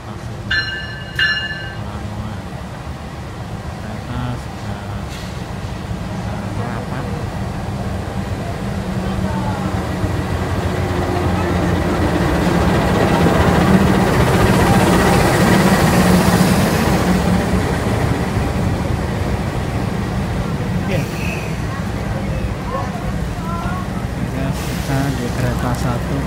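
A train at Lamongan railway station on a Trans Java trip gives a continuous low rumble and rolling clatter that swells in the middle. People talk over it.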